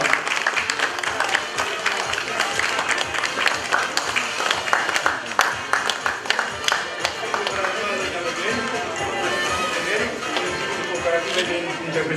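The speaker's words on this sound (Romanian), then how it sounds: "Iar noi ne facem datoria de onoare și aplaudăm mai cu inima" Audience applause at an award ceremony honouring personalities of 2017, a dense, steady wash of clapping filling the whole stretch with a lively crowd and some voices mixed in.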